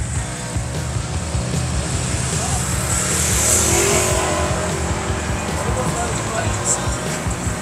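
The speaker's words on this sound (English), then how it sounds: "'68 Camaro." A 1968 Chevrolet Camaro rumbles loudly at a spring rod run, its engine a steady low roar that swells briefly midway, with voices and outdoor noise around it.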